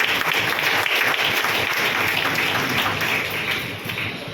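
An audience at a community association event breaks into steady, dense applause, loud and continuous before easing slightly toward the end.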